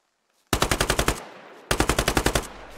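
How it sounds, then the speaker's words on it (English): Two bursts of automatic gunfire in the tactical shooter game Squad, each a rapid string of about ten loud, sharp shots, separated by a pause with a faint echoing tail; no talking. "Where the shots coming from?"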